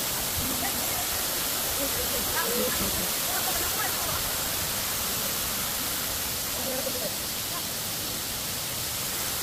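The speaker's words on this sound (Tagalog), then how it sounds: "Matlag Waterfalls ng Tanay Rizal" Batlag waterfall in Tanay, Rizal, a loud steady broadband rush of falling water filling the whole scene, with faint voices partly buried beneath it.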